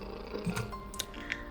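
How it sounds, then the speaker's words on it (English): A game cat's gentle purr hums low and steady for a moment, broken by a few faint clicks and small breathy accents. "That is a cat purr."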